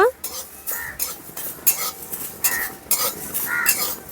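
Coriander seeds fry in a pan while a spoon scrapes and stirs, giving a series of sharp metallic clinks and scrapes in an irregular rhythm over a low sizzle.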